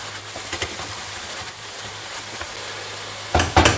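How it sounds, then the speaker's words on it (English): Onions are mixed into browning beef mince in a frying pan, giving a soft continuous sizzle with light scraping stirs, followed by a louder burst of clattering and scraping near the end. "as it starts to brown, drop your onions back in"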